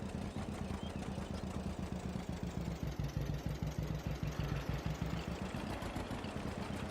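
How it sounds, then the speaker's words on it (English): A John Deere Model A tractor engine in a farming video game mod idles with a fast, regular, pulsing chug, its piston knocking hard against the cylinder head, loud and continuous throughout. "You can hear the piston hitting the top of the cylinder, the head of the cylinder."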